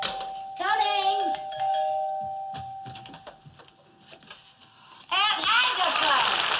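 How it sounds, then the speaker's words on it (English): A doorbell in a classic American sitcom chimes twice, one ring near the start and another near the end, with voices talking in between. "Yeah, the doorbell. Someone at the door."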